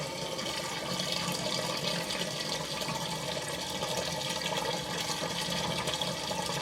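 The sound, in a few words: washing machine drain pipe gargling as water drains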